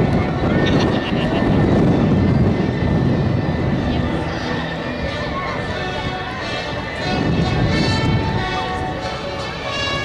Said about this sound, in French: ce magnifique Ovidis Bronco